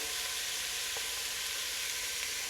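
Crawfish étouffée sizzles loudly in a pan as stock is added: a steady, bright frying hiss that continues evenly throughout, close and without talk.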